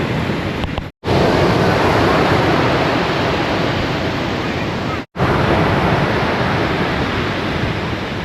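Steady, loud roar of ocean surf on a beach, dense and unbroken, with wind rushing across the microphone.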